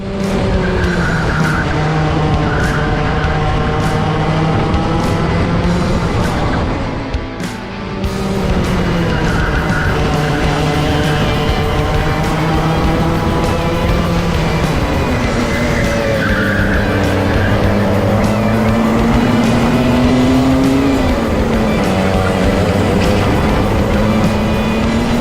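Club 100 racing karts scream through a competitive race, engines rising and falling in pitch through corners and straights, with a brief dip midway and tire squeal mixed into the continuous loud, close engine note.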